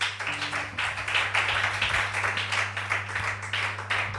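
A church congregation claps steadily in rhythm, a dense unbroken patter of many hands over a low sustained hum, with little talk.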